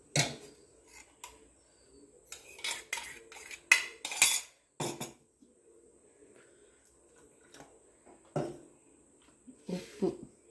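A spoon clinks and scrapes against a metal tumbler while idli rice flour batter is stirred together, bursts of rapid rattling broken by short pauses, fairly close and moderately loud.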